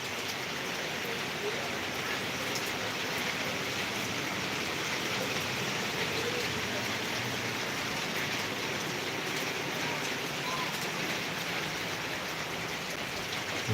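Steady, dense rain noise fills the whole stretch, constant and fairly loud, with no pauses or other distinct sounds on top.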